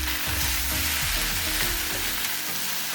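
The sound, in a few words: stir-frying bean sprout fried rice in a pan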